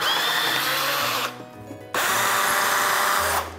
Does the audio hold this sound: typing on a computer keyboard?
no